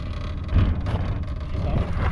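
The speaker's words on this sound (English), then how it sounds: "we have been advised to not turn the minivan off so it don't get too hot" A rattling minivan engine idles nearby, a low steady rumble with wind buffeting the microphone and no talk over it.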